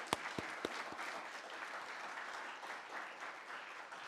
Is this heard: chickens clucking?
no